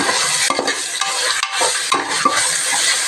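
Biryani masala with ginger-garlic paste, cinnamon, cloves and fennel being stirred in a hot pan, loud close sizzling broken by rhythmic scraping strokes of a spoon, with no voices.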